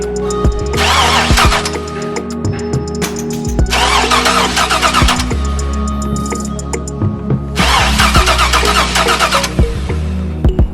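A 6.0 LS-swapped C10 pickup engine cranks over repeatedly in three long bursts, the starter churning loudly and close without the engine catching, with brief pauses between attempts.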